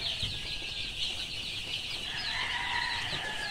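Chicks in a brooder house bedded with rice hull in a highland setting give a steady, dense chorus of high peeping that runs continuously through the clip at moderate loudness, with no voices.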